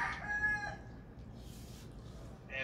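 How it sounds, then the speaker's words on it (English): A rooster crows faintly in the background outdoors, brief and distant over low ambient noise. "So romantic, a chicken crowing in the background."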